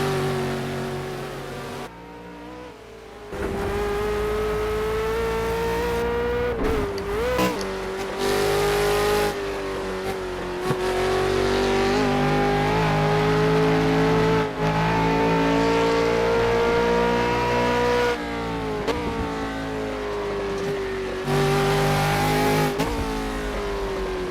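A Ford Falcon V8 Supercar in the Project CARS racing game lapping the Nordschleife, its engine loud and continuous, rising and falling through gear changes, with brief cuts and tire noise.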